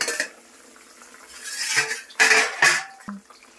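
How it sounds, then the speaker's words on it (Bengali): A metal lid is lifted off a pot of bhola fish curry in a home kitchen, giving a few sharp clinks and scrapes of cookware with a short ringing tap near the end, close and moderately loud. "ঢাকা খুলছি, মাছের ঝোলটা হয়ে গেছে।"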